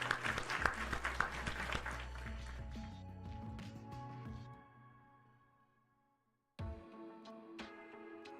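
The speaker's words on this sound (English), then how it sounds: "Round of applause, round of applause." Applause fills the opening seconds as a burst of dense clapping, then thins into background music and fades to near silence before the music returns.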